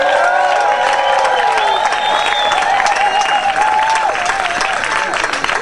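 A crowd at a float awards ceremony at the Nimbin MardGrass rally and parade applauds and cheers for the May Queen float, a steady, dense wash of clapping with some whoops that carries through the whole stretch.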